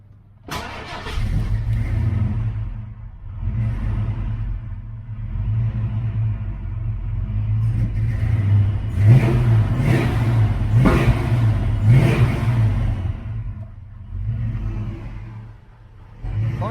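A car engine, just fitted with new spark plugs, plug wires, cap and rotor, idles with a deep rumble, then is blipped through several quick revs in a row before settling back to idle.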